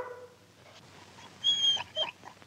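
A dog named Shep whimpers softly with a few thin, high whines near the end, faint and close in an otherwise quiet scene.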